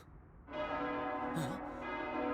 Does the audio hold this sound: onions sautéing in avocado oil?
no